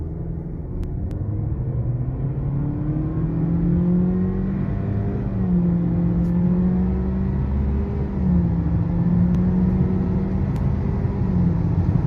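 A Honda Civic RS 11th Gen accelerating hard in a 0 to 100 test, its engine note climbing through rising gear pulls with a brief dip at each shift, steady and loud throughout.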